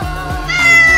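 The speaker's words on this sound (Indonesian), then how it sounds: "Walah, kucing ternyata." A cat meows once, loud and close, in a Sakura School Simulator game scene, with a rising then falling tone and no talk over it.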